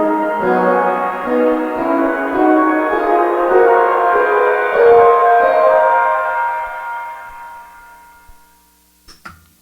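A sustained, swelling wash of layered tones with a bright, shimmering upper halo from shimmer reverb pitched up a fifth, slowly fading out, followed by a few faint clicks.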